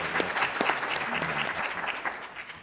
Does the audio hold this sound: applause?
yes